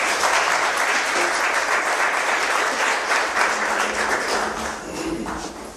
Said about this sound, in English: Mr. Allward, round of applause, please.